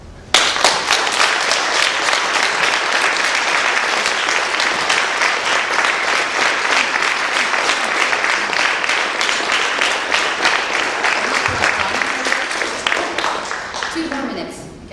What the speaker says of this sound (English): A huge applause to all the fantastic participants,